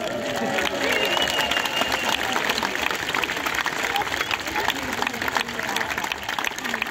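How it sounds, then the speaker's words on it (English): Big applause for the Lions fills the Pula Arena, a dense, continuous wash of clapping with crowd noise and scattered voices throughout. "big applause for our Lions!"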